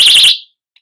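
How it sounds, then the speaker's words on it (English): A small keychain personal safety alarm shrieks with a piercing, warbling high-pitched tone, loud and close, for about a third of a second before falling silent. "It's a personal safety alarm."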